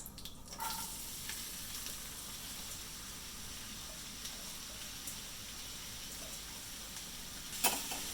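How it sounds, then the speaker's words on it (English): Onions hiss softly in browning butter in a pan, a faint, steady sizzle running throughout with a slight clink near the start and a sharp tap near the end, no voices. "Now that the butter is starting to brown a little bit, I'm going to add the onions."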